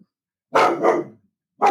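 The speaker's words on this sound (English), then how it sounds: "That'll be a dog also voicing his opinion." A dog barks three times in two quick close barks followed by a third after a short pause, loud and near, with no talk over it.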